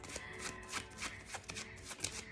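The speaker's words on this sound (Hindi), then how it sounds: "जब तक मैं कार्ड शफल कर रही हूँ" Tarot cards being shuffled close by, a run of quick riffling flutters and soft slaps in an irregular rhythm with no speech.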